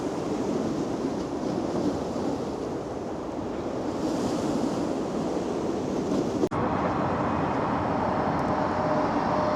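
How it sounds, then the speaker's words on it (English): Sea waves rolling in along Blackpool promenade make a steady, broad wash of surf with some wind buffeting the microphone, and one sharp click partway through. No one speaks. "He's just having a coffee, just listening to the waves coming in, and it's certainly peaceful."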